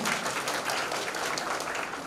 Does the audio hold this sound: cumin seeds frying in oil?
no